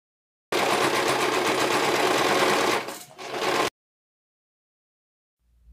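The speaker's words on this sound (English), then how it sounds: "you want to sew at a half inch all across that side piece." A sewing machine runs steadily, stitching a half-inch seam along the side piece of tapestry blanket pants. The hum is loud and close and lasts about three seconds, dips briefly, then stops, leaving silence.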